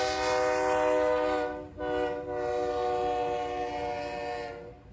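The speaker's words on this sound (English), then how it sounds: "Just south of Wilmer is the final train for the video." A BNSF intermodal freight train passes just south of Willmar Yard, Minnesota. Its horn sounds a loud sustained chord over the continuous rumble of rolling cars, close by.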